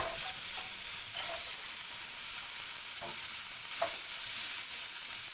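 Potatoes sautéing in hot oil left over from frying fish, giving a steady close sizzle with occasional soft stirring scrapes, no talking.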